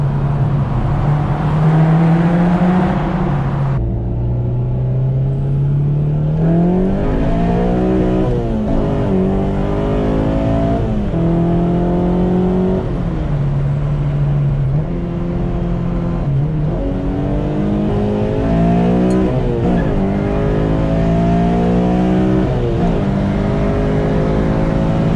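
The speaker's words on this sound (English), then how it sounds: "This is for all you who say I don't hit REV Limiter." Honda JDM K24A engine revving loudly and repeatedly up to the rev limiter, with rising and falling pitch sweeps and a steady drone between pulls, heard up close from inside the car.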